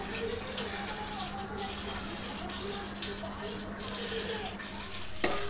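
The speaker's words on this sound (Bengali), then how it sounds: "এই যে পড়ছে তেতো জলটা।" Bitter palm fruit liquid dripping and trickling through a cloth in a home kitchen, a faint, steady watery patter close by with a soft clunk near the end.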